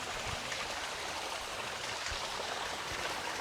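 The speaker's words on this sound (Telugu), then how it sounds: "ఇక్కడ పైనుండి వాటర్ అయితే వస్తున్నాయి" Water pours down from above at a hillside spring near Medaram, making a steady, even rushing wash that carries on without a break, fairly faint and heard alone with no voices.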